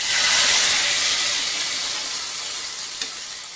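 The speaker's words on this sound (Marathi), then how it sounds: "मस्त तडका बसलाय" Hot tadka poured into a pot of cooked dal hisses and sizzles loudly at first, then settles into a steady fading crackle, heard up close with no talking.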